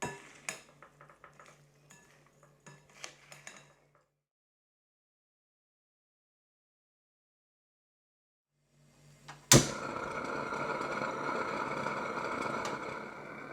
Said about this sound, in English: And give it a nice stir up.